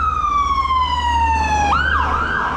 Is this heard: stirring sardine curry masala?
no